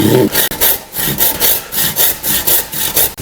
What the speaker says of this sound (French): je vais me tracer avec la scie.